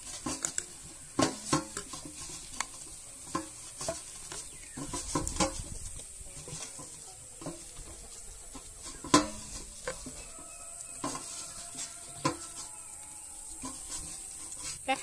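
Milk powder and a little flour are stirred together by hand into a soft dough for kalo jam sweets made with red potatoes, giving a scattered series of close scraping and tapping knocks against a bowl.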